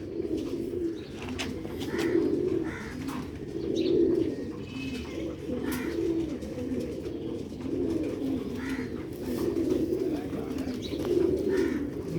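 Sialkoti pearl pigeons cooing, a series of soft, rhythmic low coos repeated about every two seconds, fairly close, with faint chirps and light background noise and no talking.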